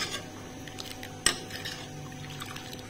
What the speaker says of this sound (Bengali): এই যে এইভাবে আমি নাড়াচ্ছি